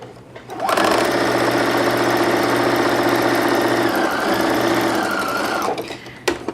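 A sewing machine runs steadily for about five seconds, sewing a French seam line of stitching at 10 millimeters, a loud continuous mechanical whir with no talk over it.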